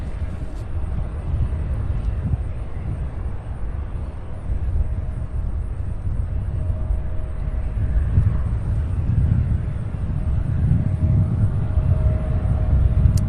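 A Sun Country airliner on flight 8486 from Meridian, Mississippi, at Louisville's SDF airport, its engines a steady broadband roar at moderate distance that swells gradually toward the end, with a faint wind rush and no talking.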